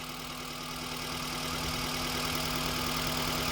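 A Maruti Zen car engine idles steadily and close by, with an even, continuous hum and a light rhythmic knock running through it, and no voices.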